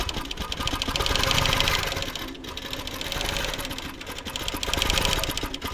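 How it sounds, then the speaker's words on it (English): A sewing machine stitching a quilt with Superior So Fine 50 weight thread on top and in the bobbin, running in a steady, close, continuous whir that swells and eases slightly. "So this is how Esther May is stitching"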